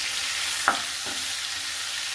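Spices, turmeric, coriander and cumin powder, are stirred in hot oil, giving a steady close sizzle with a couple of soft scraping stir strokes.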